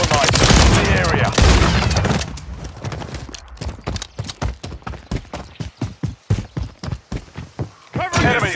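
Call of Duty multiplayer gunfire, a loud dense burst at first, then rapid, evenly spaced automatic shots crackling in a steady rhythm, with shouted voices over the fighting.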